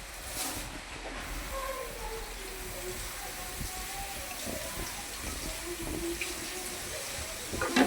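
Bean sprouts being rinsed in water, with steady running and splashing water continuing throughout at moderate level, a faint voice occasionally audible beneath it.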